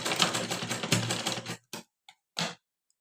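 A sewing machine stitching double-folded lehenga fabric runs in a rapid, close mechanical rattle for about a second and a half, then gives a few short separate bursts before stopping.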